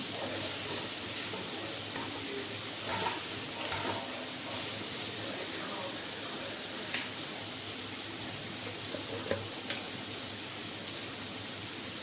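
Pointed gourd (potol) slices being stirred as they fry in a pan, giving a steady soft sizzle with faint scraping and light clinks throughout, no talk.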